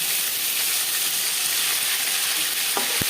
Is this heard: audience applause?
no